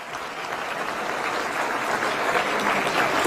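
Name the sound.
loud audience applause for minister and department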